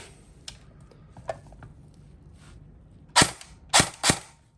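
A sand-coloured E&C HK416A5 electric airsoft rifle fires three sharp, loud shots close by near the end, after a few faint clicks and handling noises.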